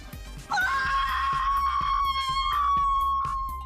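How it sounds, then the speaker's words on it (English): A woman lets out a long, loud, high-pitched scream of horror that holds steady for about three seconds over a rhythmic music beat. "Jiwoo screamed in horror."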